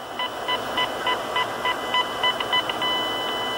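A Stryker SR 497 HPC radio receiver with no signal emits a steady train of short, evenly spaced beeping tones over a quiet hiss, with no talking.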